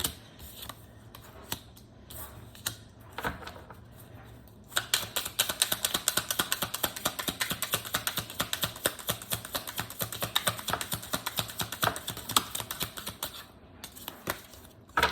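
A deck of tarot cards being shuffled gives a few loose taps at first, then a long run of rapid, crisp riffling flutters close by, with no voices.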